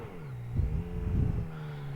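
A heavy motorcycle engine hums low and steady while climbing uphill, swelling twice in short revving bursts before settling back to its drone.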